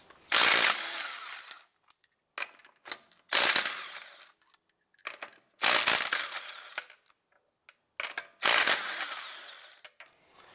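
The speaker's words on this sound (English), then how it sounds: "let's go ahead and remove our lug nuts" An impact tool with a 19mm socket spins off the front wheel lug nuts of a 2004-2008 Acura TL, four loud, close bursts of buzzing rattle with short quiet gaps between them.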